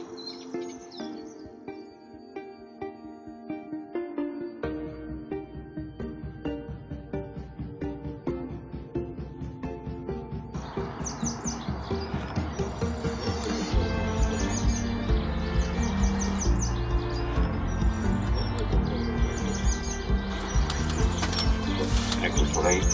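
Small birds chirp during a bird ringing session, repeated bright tweets and calls that grow denser and louder, mixed with mechanical clicks and rustling.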